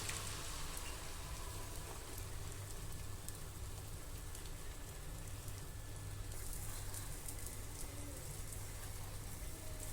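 Steady rain falls on a cool rainy day, a dense even patter with scattered drops, continuous and fairly quiet throughout.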